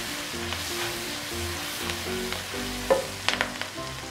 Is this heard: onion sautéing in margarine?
yes